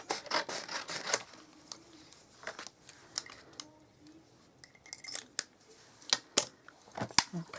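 Scissors snip through vanilla card to cut out stamped paper teacups, making sporadic short crisp cuts and rustles with quiet pauses between them.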